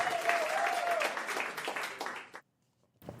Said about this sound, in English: can I get applause?